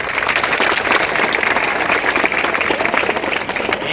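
A school audience at an inter college's Uttar Pradesh foundation day event breaks into loud, continuous applause, many hands clapping densely and steadily throughout.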